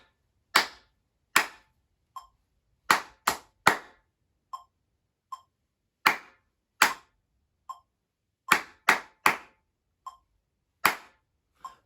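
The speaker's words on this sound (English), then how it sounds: "Now just clapping." Students in a music class clapping a rhythm pattern together, with sharp, loud claps in rhythmic groups separated by silent rests, and quieter ticks falling between some of the groups.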